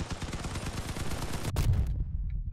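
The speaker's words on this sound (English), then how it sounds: "There you go, let's shoot that." Rapid vehicle-mounted guns firing in the Crossout combat game, a dense rattling burst of automatic shots that runs steadily for about two seconds, then cuts off into a heavier low rumble.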